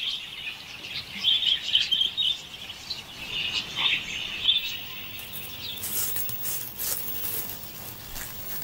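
Budgies give bright, rapid chirps and twittering calls in bursts, moderately close over a quiet background, with brief mechanical-sounding rattles mixed in near the end.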